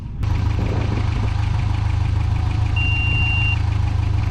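The engine of a 1992 Toyota pickup idles steadily and loudly up close, with a low throbbing drone and a faint, regular ticking running through it.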